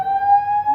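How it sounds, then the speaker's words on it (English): A building fire alarm sounds at a NAMM breakfast event as a loud, steady electronic tone that holds without a break, close and piercing. "Fire alarm. That's the bell."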